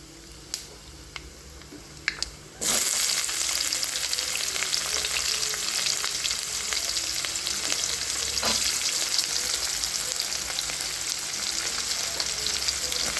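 Fenugreek powder and onions fry in a pan with a loud, steady sizzle that bursts on suddenly after a few quiet taps and then holds dense and close, with scattered crackles and no talking.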